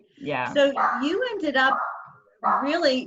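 A pet dog barks and yips at home during a video call, with people talking over the sounds.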